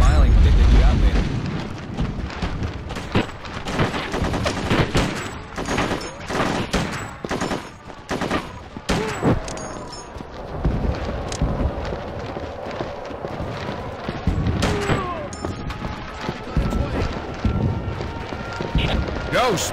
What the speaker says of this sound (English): The South Koreans will commence airstrikes in a moment to cover our advance